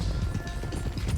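Loose stallion's hooves clattering at a run in Red Dead Redemption 2, a dense, steady pounding with a low thudding rumble that fills the short stretch.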